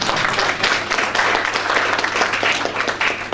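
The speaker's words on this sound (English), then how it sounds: "I think they deserve another clap." Audience clapping at an official launch event for a national local economic development strategy, a dense, close round of applause that runs steadily throughout.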